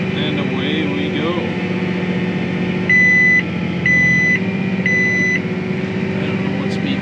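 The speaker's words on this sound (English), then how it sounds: "I don't know what's beeping." Three short electronic beeps repeat about once a second over a steady engine drone in a tractor cab while planting soybeans with a John Deere StarFire 7000.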